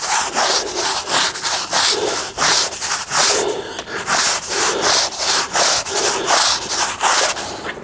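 A stiff brush scrubs a rug soaked with carpet cleaning solution in quick, even back-and-forth strokes. The rasping is loud and close and keeps a steady rhythm throughout, with no voices.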